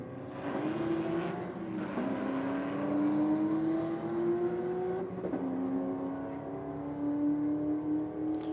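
A Holden Commodore drag car accelerates hard down the strip, its loud engine note climbing through several gear changes with short dips between shifts, sustained and fairly close with no speech.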